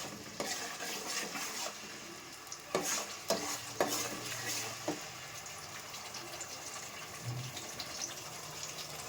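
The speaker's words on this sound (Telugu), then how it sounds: "పచ్చివాసన ఉంటే పోయాం పోయేంత వరకు కలుపుకోవాలి" Fish curry masala is stirred in a pan, giving a soft, low sizzle with scattered spoon scrapes and a few sharper knocks against the metal near the middle, fairly quiet and close.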